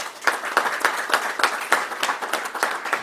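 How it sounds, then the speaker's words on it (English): An audience at a university news conference gives a round of applause for trustees, brisk scattered clapping from a moderate crowd that pulses steadily for a few seconds. "Y'all give the trustees a round of applause."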